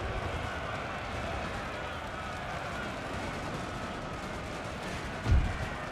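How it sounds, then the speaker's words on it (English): Massed musket volleys from several regiments in Napoleon Total War, heard as a continuous dense rumble of distant battle gunfire with one sharper close shot near the end. "I've got 4 regiments firing on that."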